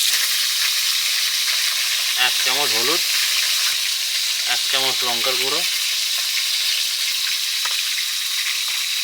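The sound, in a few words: fish frying in a pan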